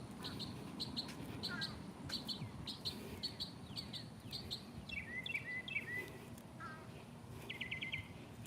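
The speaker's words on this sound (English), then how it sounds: "I mean, the birds are happy this morning. They're chirping." Several birds chirp and tweet through a calm morning outdoors on a garden walk, with repeated short high calls and quick trills over a steady low background rumble.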